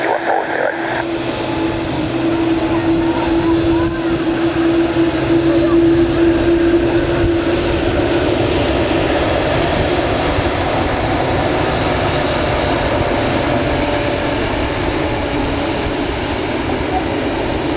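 A TUIfly Nordic Boeing 787-9 Dreamliner jet at Manchester Airport gives a loud, sustained engine roar that swells and holds throughout, with radio chatter audible at times.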